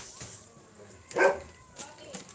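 A single dog barks once in a short, fairly close woof outdoors, set against faint background noise and a few lighter yips.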